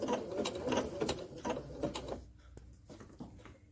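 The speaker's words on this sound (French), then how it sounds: "Ça va me permettre en fait de faire un dernier flocon et la machine s'arrête." A domestic sewing machine stitches a decorative snowflake pattern in fast rhythmic ticking bursts, then slows to a few clicks and stops; quiet and close.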